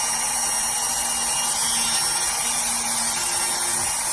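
A nail drill burr grinds steadily on an ingrown toenail, giving a continuous high whine with a faint low hum beneath it. The sound holds unbroken from start to finish, with no voices.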